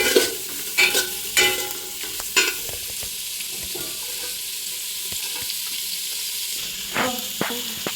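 Shredded cabbage stir-fried in a hot pan for homemade egg chowmein gives a steady, close sizzle, with a few sharp spatula scrapes and tosses near the start and again toward the end, and no talking.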